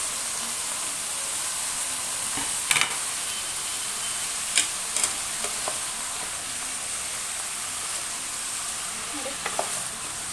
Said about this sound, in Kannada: ಬದನೆಕಾಯಿ ಹಾಕೊಂಡು ಸ್ವಲ್ಪ ಫ್ರೈ ಮಾಡ್ಕೊಳ್ಳೋ ಎಣ್ಣೆನಲ್ಲಿ